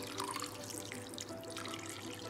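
Cold water poured from a big jug onto fresh homemade paneer, a steady close splashing wash that runs unbroken for a couple of seconds with no voices.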